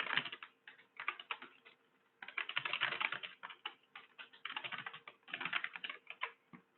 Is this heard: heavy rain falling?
no